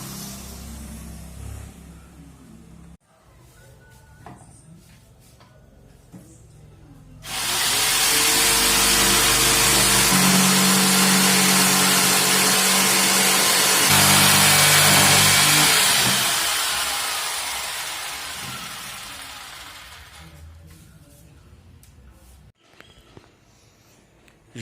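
A power saw cuts through a wardrobe panel in a loud continuous run of about twelve seconds, rising sharply from quieter workshop sounds and tapering off, with a steady motor drone beneath the cutting noise.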